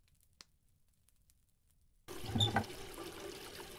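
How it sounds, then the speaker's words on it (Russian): Water from a tap pours into a bucket in the horror game Metel, a steady trickling flow that starts suddenly after near silence and runs on at moderate, close volume. "Наполняем ведро водой."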